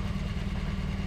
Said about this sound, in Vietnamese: mình lại nổ máy lên một lần nữa để cho nó trộn đều cái hoạt chất này vào trong nhớt đó